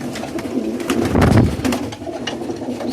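Young Birmingham Roller pigeons coo close by in a loft, low throaty murmurs swelling louder for a moment before easing off, with no talking over them.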